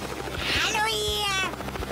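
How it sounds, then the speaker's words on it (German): A cartoon helicopter thumps with rapid rotor chops beneath a rising and falling whine, steady and fairly loud throughout the short stretch. "Woher habt ihr den Helikopter?"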